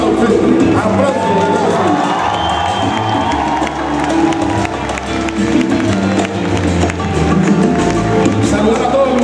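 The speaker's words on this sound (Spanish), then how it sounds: "Y el aplauso hoy es para usted." A live concert crowd in Moscow claps and cheers loudly and continuously, with shouts and voices rising over a loud, dense wash of applause.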